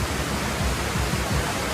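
Continuous broadband rush of the Batlag Falls waterfall, steady and full without pause, with a low churning rumble beneath the hiss and no voices over it.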